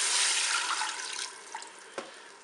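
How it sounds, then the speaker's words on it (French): Broth pours into a Cookeo electric pressure cooker for a turkey roast with lentils, giving a close, steady splashing stream for about two seconds that tapers off and ends with a brief final splash. "je vais verser mon bouillon"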